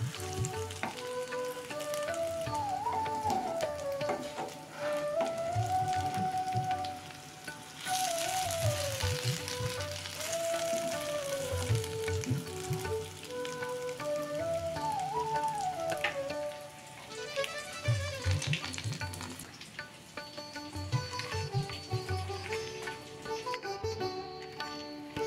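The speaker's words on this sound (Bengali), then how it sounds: "আর যে 2 পিস ছিল ওই 2 পিস মাছগুলো ছেড়ে দিয়েছি, আর ভাজাও হয়ে গেছে" Pieces of rohu fish fry in a pan with a steady, close sizzle that runs throughout under background music.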